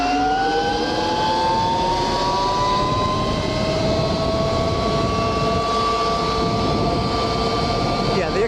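An 88V Extreme Wheel ES electric dirt bike is ridden, its motor producing a loud, continuous rising whine over steady rushing wind and tyre noise the whole time.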